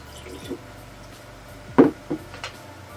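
Water poured into white PVA glue while preparing papier-mâché, heard as a few short, soft drips and splashes spread over a few seconds, close and fairly quiet against a still background.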